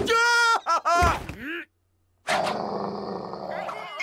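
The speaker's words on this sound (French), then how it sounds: "C'est un chien féroce!" Ferocious dog growling and roaring in a French cartoon, a loud close snarl that comes in short bursts, drops into a brief silence, then returns as a sustained rumbling growl.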